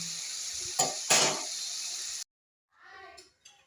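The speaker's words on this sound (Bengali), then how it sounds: "আমার আলু গাজর ভাজা হয়ে গেছে" Potatoes and carrots frying in a pan in a home kitchen give a loud, steady sizzle for about two seconds, swelling with a couple of stirring bursts, then cutting off abruptly before a faint clatter.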